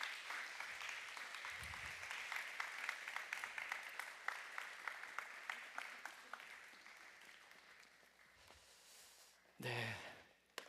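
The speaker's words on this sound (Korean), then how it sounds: "여러분 다시 한번 박수 한번 부탁드리겠습니다" A church congregation applauds during a Christmas service with an infant baptism, steady rapid clapping filling the hall for several seconds before fading, with a brief voice near the end.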